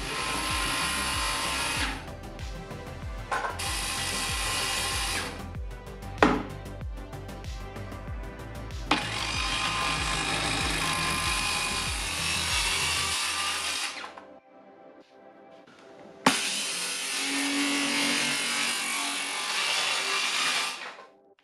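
Power tool cutting through kitchen cabinet wood: loud, sustained whining cuts in several long passes separated by short pauses, close and harsh, with no talking.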